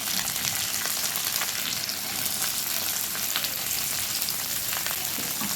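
Onions sizzle and fry in a hot pan with garlic and ginger while chicken fried rice and Manchurian are cooked, a dense, steady crackling hiss throughout, close and fairly loud with no voices.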